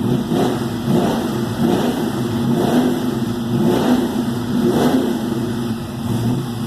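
A 1984 Ford Mustang GT engine revs repeatedly in rising and falling surges over a constant rumble, close and loud, with no talking.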